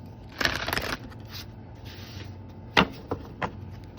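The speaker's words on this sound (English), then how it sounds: "The deck does seem to shuffle very nicely." Oracle card deck being shuffled by hand: a brisk riffle of flapping cards, then a pause and a few sharp, separate card snaps and taps, close and moderately quiet.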